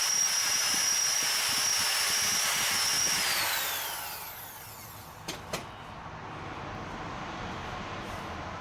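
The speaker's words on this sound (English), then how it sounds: "let's load up our 5/16 drill now. And we'll drill the hole all the way through on both sides" A power drill with a 5/16-inch bit whines at a steady high pitch boring through a Harley Sportster Iron motorcycle part, then winds down and stops, followed by two sharp clicks over a faint background hiss.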